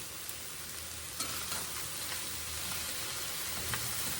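Cabbage and sausage hash sizzles steadily in a pan, with a few soft scraping clicks as the mixture is stirred; a constant close frying hiss with no talking.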